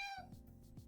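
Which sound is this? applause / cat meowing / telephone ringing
cat meowing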